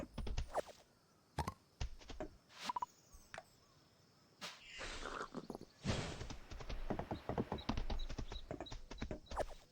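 Horse hooves clip-clop in the farming game Fields of Mistria, a series of sharp, close hoofbeats that fall in loose bursts. A steadier run of quicker steps follows, with a brief whinny-like tone near the start.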